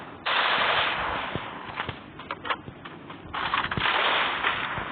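A short-range gun fires in a shooting video game, rapid bursts of automatic gunfire in two long volleys with scattered single shots between, close and loud.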